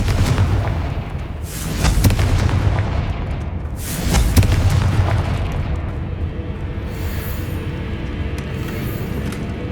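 Blasting-spell explosions go off in the Hogwarts Legacy game, two heavy booming bursts a couple of seconds apart, each trailing into a rumbling decay, with no talking.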